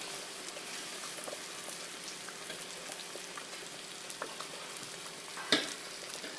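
Homegrown tomatoes fry in a pan for a mutton curry, giving a steady, close sizzle with soft crackles and a sharper pop near the end.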